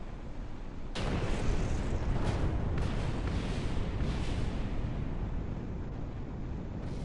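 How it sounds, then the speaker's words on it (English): A single rocket launches in Kerbal Space Program with a sudden loud ignition, then a steady roaring rush that holds for several seconds. "Attempting to fire one rocket."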